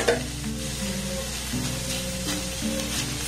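A powdered-milk sweet cooking in a pan with ghee added, stirred steadily while it sizzles and fries, a continuous close crackle broken by scraping strokes of the spoon.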